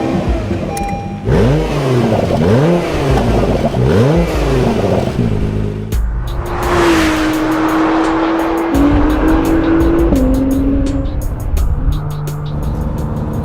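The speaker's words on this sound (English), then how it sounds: "this is a turbocharged engine that has absolutely no lag" A turbocharged Acura NSX in track mode on a racetrack, its engine revving hard through rising pitch sweeps as it accelerates and shifts, then a sustained loud drone with brief tire squeal.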